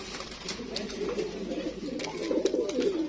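Soft, low cooing of golden sweet pigeons murmurs continuously at close range, with faint clicks and shuffling sounds around it.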